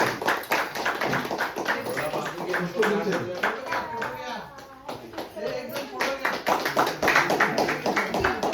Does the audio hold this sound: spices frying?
no